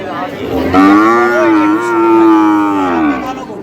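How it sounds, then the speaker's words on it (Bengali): A Sahiwal bull moos loudly and close by at a cattle market, one long drawn-out low call lasting a few seconds, with no other sounds around it. "হাইট কেমন আছে এই গরুগুলো সাহেব আলী ভাই"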